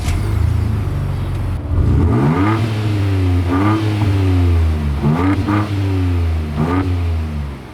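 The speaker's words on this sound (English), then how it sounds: "So that was with the exhaust in Baja mode, which they recommend for off-road use only." A 2024 Ford Ranger Raptor's turbocharged engine revs hard through its dual exhaust in off-road Baja mode, loud and close, with several rising and falling rev sweeps over a steady deep rumble.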